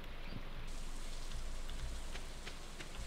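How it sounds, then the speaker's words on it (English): Rain falling in the farming video game Stardew Valley: a steady, even hiss of raindrops with scattered soft pattering hits, continuous and fairly faint, with no voices over it. "Oh, I did not realize it was gonna rain today."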